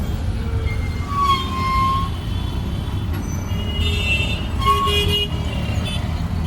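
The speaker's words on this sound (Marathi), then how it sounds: "आली मुंबईची ट्रॅफिक." Busy Mumbai road traffic with a steady engine and road rumble throughout, and car horns tooting several times, some brief and some held, at moderate distance.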